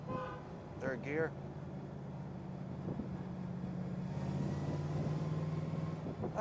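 A 1961 Chevrolet Corvette Fuelie cruising in third gear, a steady low engine hum rising slightly, with someone speaking briefly over it near the start.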